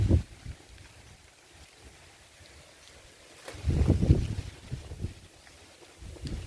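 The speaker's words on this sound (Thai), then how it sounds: "ลมนะ" Gusty wind outdoors in an avocado orchard, with low rumbling buffets against the microphone: one at the start, a stronger swell midway and a smaller one at the end.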